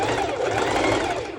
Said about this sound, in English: you can just do normal a normal stitch